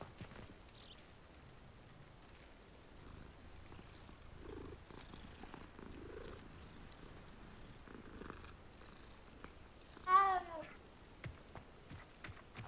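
A cat in Hogwarts Legacy purrs softly and steadily throughout, with faint rumbling murmurs and one short, louder meow rising near the end.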